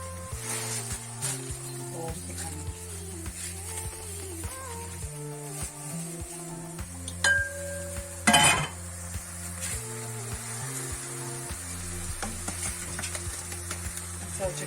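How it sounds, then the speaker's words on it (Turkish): Rice for büryan fries in a pan with continuous hissing sizzle and scraping stirring strokes. A few louder clanks of utensil against pan come through, and tonal background music plays underneath. "Pirincimizi de kavuracağız."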